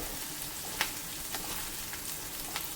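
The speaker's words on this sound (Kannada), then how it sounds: "ಚಿಲ್ಲಿನ ಕಟ್ ಮಾಡಿ ಇಟ್ಕೊಂಡಿದ್ದೀನಲ್ಲ ಅದನ್ನ ಹಾಕ್ತಾಯಿದ್ದೀನಿ. ಇದೊಂದು ನಿಮಿಷ ಹುರ್ಕೊಂಡು" Chopped green chillies fry in a pan for a channa palak gravy, giving a steady close hiss of sizzling oil with a few sharper pops and spits scattered through it, no talking.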